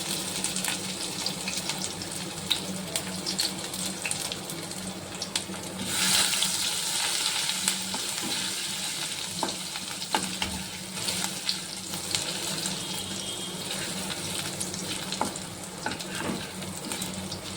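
Ginger and whole spices frying in hot oil in a pan, a steady close sizzle that swells briefly partway through, joined by faint clinks and stirring, with no talking.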